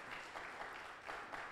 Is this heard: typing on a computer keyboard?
no